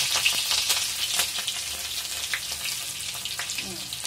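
Garlic and green chilies frying in hot oil for a potato dish, a steady close sizzle with faint crackles throughout, no voices.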